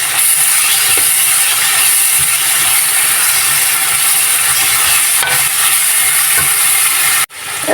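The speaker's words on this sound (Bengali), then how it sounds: "এখন আমি এর মধ্যে দিয়ে দেবো রসুন বাটা এক টেবিল চামচ দিয়ে এটাকে এক মিনিট কষিয়ে নেব" Onion and garlic paste stir-frying in a pan, a steady loud broadband sizzle and hiss running close and continuous, cut off briefly near the end.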